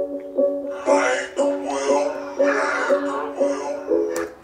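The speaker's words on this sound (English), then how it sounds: "So now when we play it slowed down, it sounds like this, choppy and screwy." A song slowed down in Ableton Live plays choppy and screwy, with a low, dragging vocal over steady pulsing chord stabs repeating about every half second.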